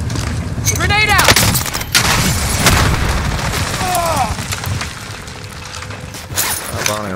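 In Call of Duty Cold War multiplayer, loud gunfire and explosive bursts crack repeatedly at close range while players talk over the action.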